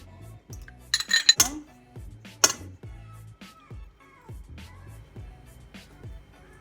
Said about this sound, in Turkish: İlk önce 3-4 yemek kaşığı yoğurt ekliyorum.